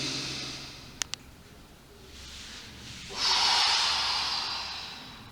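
A long, breathy inhalation, loud and close, taken as part of a breathing exercise in a seniors' gymnastics class, with two short clicks beforehand.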